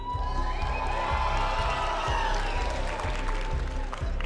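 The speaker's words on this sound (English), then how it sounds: "The crowd has been super loud today. Let's hear it one more time." An esports arena crowd at a Brawl Stars Championship cup event cheers and whoops loudly and continuously, with rhythmic clapping and shouting swelling under a host's amplified voice.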